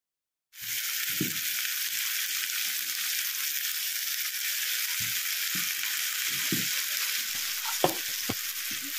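Star fruit with jaggery fries in a pan with a steady, bright sizzle, broken by occasional soft knocks and scrapes of stirring.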